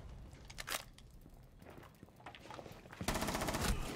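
Gunshots in a shooter video game, several sharp bursts scattered through the first half, then a louder, dense volley near the end, with no talking.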